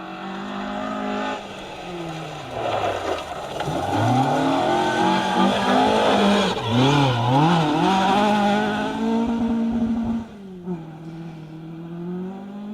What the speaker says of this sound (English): It's Neil James, Kevin Jones, B11 Escort, just running wide over the crown of the road and finding the loose stuff.